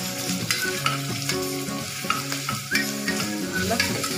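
Crushed ginger and garlic sizzle and fry with onions in a pan, a steady hiss with repeated stirring scrapes and clinks throughout, close and alone with no talk.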